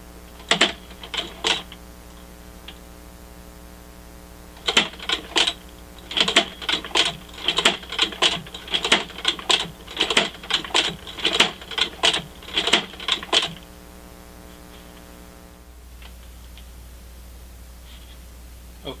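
A hand-operated stitching machine sews a leather guitar strap, rapid rhythmic clacking bursts in repeated runs with short pauses, close and loud.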